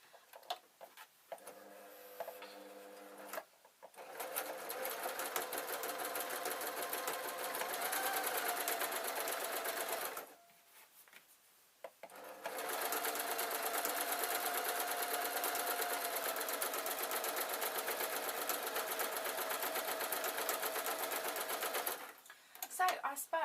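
A sewing machine stitches a quilt border in two long, fast, steady whirring runs separated by brief pauses, close and clear.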